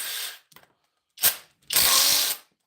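An impact driver fires in a few loud, rapid hammering bursts, separated by short gaps and a brief quieter rattle, close to the microphone in a workshop.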